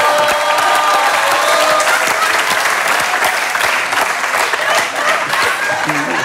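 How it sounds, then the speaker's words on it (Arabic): Loud sustained audience applause from a studio crowd on a TV show, dense clapping over the full stretch with faint voices mixed in underneath. "تصفيقة كبيرة"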